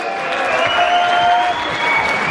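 Steady applause from a crowd at a live show, greeting the performer Jack Ryan, sustained and fairly loud for the whole stretch with a few whistles over it.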